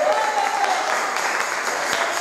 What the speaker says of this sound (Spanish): Dele fuertes palmas a Rey de Gloria.